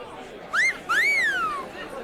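Admiring wolf whistles from bold students on school balconies in a Spanish radio drama: a short rising whistle, then a longer rise-and-fall whistle, bright and close over a murmur of chatter.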